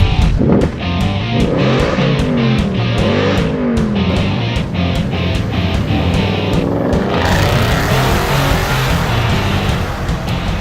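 An Audi RS V8 accelerates away with a loud, deep engine rumble, a quick series of sharp gear-change pops early on, then a sustained rising roar close by.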